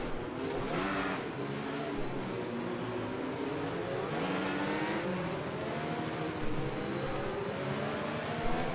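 Race cars in a racing video game roll through a formation lap, engines droning and rising together in a steady close rumble with layered revving, no talk.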